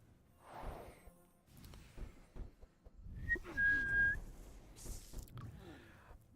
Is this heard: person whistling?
yes